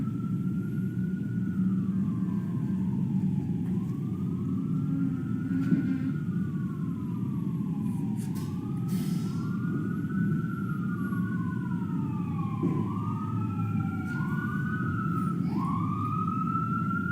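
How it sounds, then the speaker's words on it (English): Emergency vehicle sirens play back from recorded footage in a courtroom, wailing up and down repeatedly over a low steady rumble, with several overlapping siren tones passing at moderate volume. "wait until the sirens pass"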